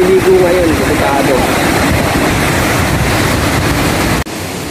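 Strong rushing river water under a mountain near Montalban, Rizal, a loud continuous roar with wind buffeting the microphone, and a brief voice at the start.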